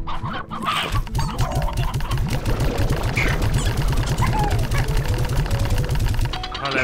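Chickens cluck in rapid, repeated bursts in the video game Slime Rancher, a dense run of clucks over game sounds and music, with someone talking over them.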